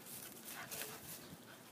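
A pit bull whimpers softly in a short, faint, airy whine, heard close up with no talking.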